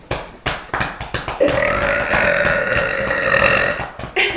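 A long, loud, throaty burp from a burping contest, preceded by a few short gulping and swallowing sounds and followed by brief smaller noises, close to the microphone.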